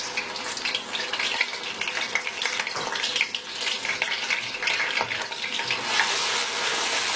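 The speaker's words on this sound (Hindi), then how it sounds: "इसे अच्छे तरीके से मीडियम फ्लेम के ऊपर हम इतना भूनेंगे कि कच्चापन प्याज का खत्म हो जाए।" Onion paste fries in half a cup of oil in a kadai over a medium flame for chicken chilli, a dense, loud crackling sizzle that holds through the whole stretch with no voice over it.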